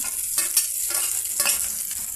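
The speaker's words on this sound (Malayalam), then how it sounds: "വഴറ്റാം അതിൻ്റെ കൂടെ പച്ചമുളകും ഇടാം" Green chillies and cumin sauté in a pan, giving a continuous close sizzle broken by repeated scraping stirs of a utensil against the pan, with no voices.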